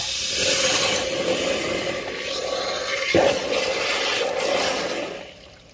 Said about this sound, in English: if I pin this hose nozzle against the hole right there, I can force a lot of water in there